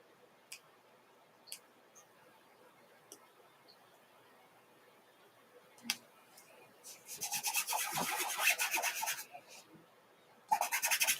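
A fuzz towel rubs across a clipboard in a quiet room in two bursts of soft, scratchy friction, preceded by a few faint, isolated ticks and taps.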